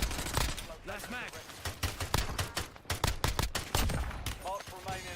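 Rapid gunfire crackles through a first-person shooter match in dense, uneven bursts, loud and close, over the whole stretch, mixed with other battle noise and a voiced game announcement.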